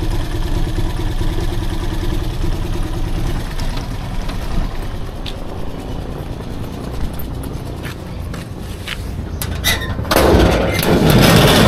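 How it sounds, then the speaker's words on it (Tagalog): A motorcycle engine idles with a steady low rumble, joined near the end by a louder, rougher burst of mechanical noise. "napakatining ng makina oh"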